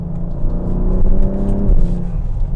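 A loud, close 500 HP Ford Explorer ST engine drones and rises under acceleration, a steady throaty rumble with a slight dip suggesting a gear shift.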